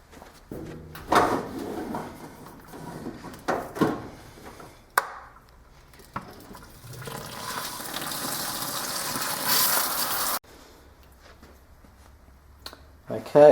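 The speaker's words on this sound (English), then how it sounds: "Then we're going to add cold water to that, up to 23 litres." Cold water running into a homebrew beer fermenter for a Coopers Galaxy ale, a gushing pour that swells to a strong rushing fill before cutting off, with handling clunks before it.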